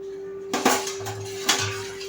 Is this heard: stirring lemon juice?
yes